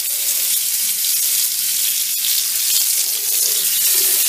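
Hot tap water runs steadily over blueberry-dyed fabric being rinsed in a sink, a continuous close hiss and splash with no pauses.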